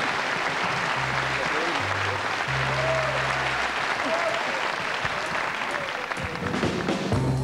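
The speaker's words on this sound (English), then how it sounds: "Give him a big round of applause" Sustained audience applause for a singer at a live showband concert, dense and steady throughout with a low band note sounding underneath.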